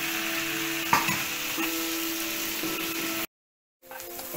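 Finely chopped tomatoes sizzle and cook down in a pan while a spoon stirs them, giving a steady frying hiss with a few scraping knocks, then a short silent gap before the sizzling resumes.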